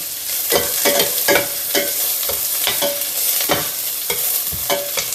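Onions frying in a pan for chilli con carne, a steady close sizzle broken by regular scraping stirs of a utensil against the pan, loud and continuous with no talk.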